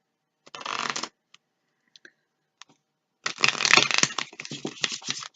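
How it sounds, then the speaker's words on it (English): A deck of playing cards gets a riffle shuffle, heard as two bursts of rapid fluttering clicks, a short one and then a longer, denser one, with a few isolated taps between them, close and fairly quiet. "And give it a little bit of a riffle shuffle."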